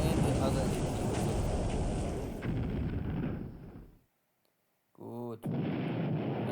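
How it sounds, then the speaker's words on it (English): Torpedo hits and explosions in the naval wargame Pacific: AE come as a loud, sustained rumbling blast that fades into near silence, then a brief sharp burst before the roar resumes. "So 3 torpedo hits, but only 2 explosions."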